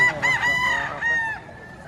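A young stag rooster at a chicken market in Batangas crows loudly and close by, two drawn-out calls in quick succession over a faint market background.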